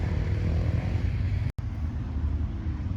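Steady low engine rumble and traffic noise fill a parking lot at the Lipno dam in the Czech Republic, with motorcycles and a broad hum of vehicles nearby and a brief dropout midway.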